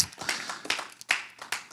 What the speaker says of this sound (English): you can give a clap for Jeremy.